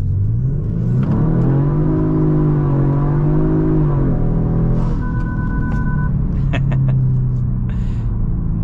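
A tuned 2023 Genesis G70 in sport mode accelerates hard, its engine droning loud and close with a rising pitch that drops at a gear shift, then pulls again under a steady cabin rumble.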